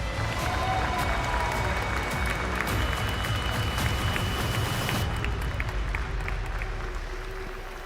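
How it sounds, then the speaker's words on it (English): An audience at a chess playoff event applauds, dense sustained clapping with some cheering filling the space, steady and full before easing slightly at the end. "please can I have a round of applause for Hikaru Nakamura?"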